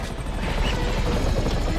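Rotor and engine roar of a helicopter in the video game GTA 5, a steady loud wash filling the whole short stretch with no talk over it.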